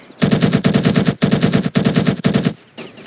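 Rapid machine gun fire in the video game Ravenfield, loud close bursts of fast repeated shots in several long strings with short gaps between them.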